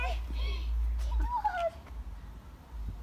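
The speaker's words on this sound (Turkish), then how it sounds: "Anne, kedi var." A street cat gives a short, rising meow amid outdoor bustle. Faint voices and low rumbling background noise surround the call.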